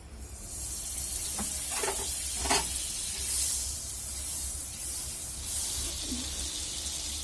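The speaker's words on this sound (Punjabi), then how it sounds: "ਪੈਨ ਵਿੱਚ ਮੱਖਣ ਪਾਵਾਂਗੇ" Butter sizzling in a hot pan while a vegetable sandwich is cooked: a steady, bright frying hiss runs throughout, with a few soft clicks and scrapes near the start.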